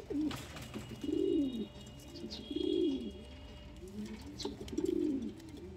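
Pigeons in a home loft coo softly and nearby in three rhythmic, throaty rolling phrases about a second and a half apart. Faint chirps and small rustles sit between the calls.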